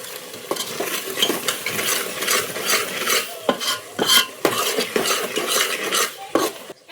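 Peanuts added to a cooking pot in a village kitchen and stirred, repeated metal spoon scrapes and clinks against the pot over a light sizzle, rhythmic and close.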